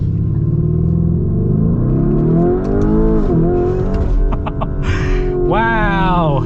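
Lamborghini Urus SUV engine pulling hard under acceleration, loud rising and falling revs with a deep rumble and gear-change dips, with talk over the top of the engine.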